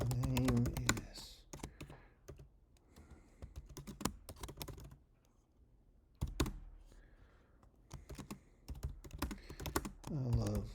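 Typing on a computer keyboard while entering a forum thread post, rapid irregular bursts of close clicking keystrokes with short pauses between runs.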